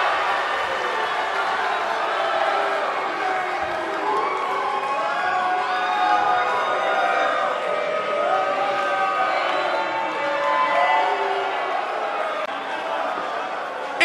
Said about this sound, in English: Look at this Dallas crowd shower these competitors with appreciation following an amazing matchup